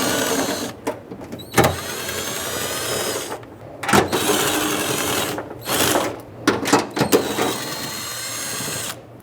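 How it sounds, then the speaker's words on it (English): A ratchet fitted with a deep 10mm socket and extension works on a 2010-2017 Chevrolet Equinox while a park assist camera is replaced. Sharp clicking bursts repeat in irregular groups, close and fairly loud. "You'll need a deep 10mm socket and an extension for this."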